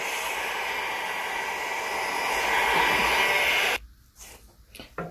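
A heat gun blows steadily on the Loctite holding the lock ring of a Dynabrade Rebel Series grinder. The loud, even rushing hiss runs for about four seconds, then cuts off, leaving a few faint clicks and handling sounds.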